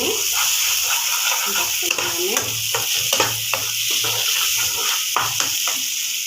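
Masala spices sizzling and frying in hot oil for a shrimp and poppy-seed curry, a steady loud hiss with stirring scrapes throughout, and a voice talking over it.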